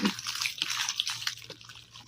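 Water is poured onto a plate of rice, giving a steady, bright splashing trickle with small drips for about two seconds, close by and with no talking.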